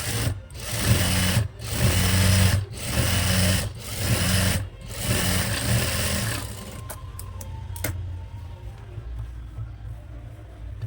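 A sewing machine stitches a frock nighty in steady rapid bursts, with short pauses between runs, close and fairly loud, before falling quiet with a few faint clicks.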